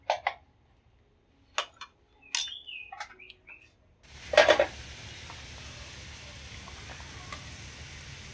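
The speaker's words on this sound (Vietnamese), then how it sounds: "Nồi canh của mình nó bắt đầu sôi lên." A pot of vegetarian corn soup with Malabar spinach and katuk greens begins to boil on the stove. After a few quiet clicks and taps, a steady bubbling, sizzling hiss rises and continues evenly to the end.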